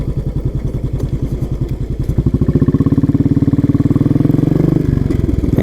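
Four motorbikes ride together on a road trip toward Srisailam, their engines thrumming close and loud in a steady pulsing growl that thickens and rises partway through, with no talking.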